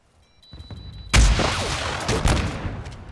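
Sustained burst of gunfire in a Call of Duty match aimed at an enemy UAV overhead, starting abruptly after a faint lead-in and continuing as loud, dense shooting to the end.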